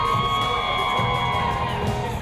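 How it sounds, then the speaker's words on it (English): Friends, family and coworkers cheer and whoop for two people rappelling down a building, a steady crowd of voices mixed with shouts over a constant hum. "Jordan Dixon and Jamel Roberts had their own cheering section."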